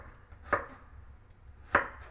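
Two sharp knife chops through chayote on a cutting board, close and distinct, spaced about a second apart over a quiet background.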